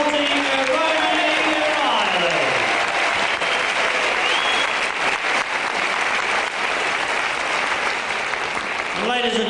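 Sustained audience applause fills a boxing venue after a bout between Johnny Czeslaw and Romany Riley, loud and steady throughout with crowd noise, while a ring announcer's amplified voice rises over it at the start.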